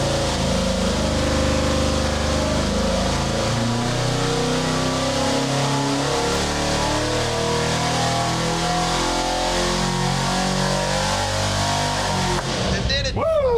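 Twin big-block engines on a dyno roar loudly and continuously, revving hard with layered harmonic drone throughout, then dropping off abruptly at the end.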